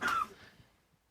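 A woman gives a single short cough or throat-clearing burst at a social gathering with wine, close and moderately soft, fading quickly into quiet room tone.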